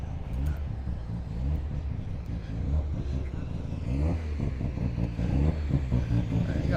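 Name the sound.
Grave Digger monster truck engine revving at car show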